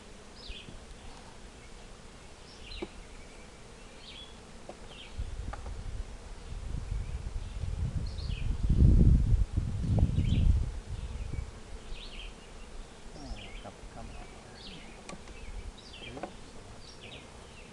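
Honeybees buzz steadily around an open beehive topped with pollen cakes, a low hum that swells louder for a few seconds midway as bees pass close, with brief higher insect whines throughout.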